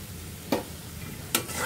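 Spice masala with chopped tomatoes being stirred in a pan for aloo dum with ghati kochu: two brief, quiet scraping strokes about a second apart over a low, steady background, no voices.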